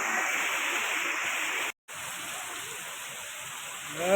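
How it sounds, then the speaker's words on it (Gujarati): Steady rain falls at the Mogal Dham temple, a dense, even hiss that holds throughout, cut by one brief dropout near the middle. "ચાલો વરસાદ ધીમો પડ્યો છે"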